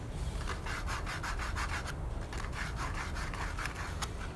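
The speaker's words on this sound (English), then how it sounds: "Stick that in the hole, spin it around, and you sand those corners nice" Rolled sandpaper spun inside the hole of a wooden pencil holder sands the corners, making a steady, close, rhythmic rubbing and scratching with quick repeated strokes and no talking.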